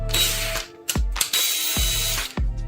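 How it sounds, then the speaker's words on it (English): Drilling through a workpiece with a 3/8 inch drill bit: several short bursts of a loud, close, grinding drill that rises and stops between pushes, with no talking. "just gently drill through without breaking this"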